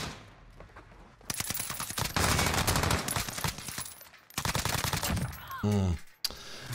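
Rapid bursts of video game gunfire rattle loudly through most of the stretch, with a short gap before more shots, a closing impact and some game voice sounds mixed in.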